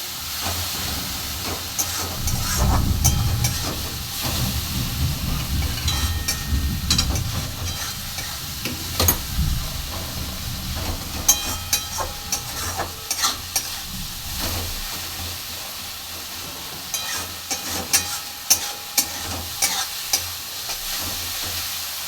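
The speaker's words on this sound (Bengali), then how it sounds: "দিয়ে দেবো টমেটো কুচি, দিয়ে এটাকে ভালো করে কষবো।" Chopped tomato with spices fries loudly in oil for a small fish curry, a steady sizzling hiss broken by frequent scraping and clacking of a spoon stirring the pan, close up and without speech.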